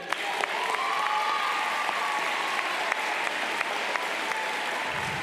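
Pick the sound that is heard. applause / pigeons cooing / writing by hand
applause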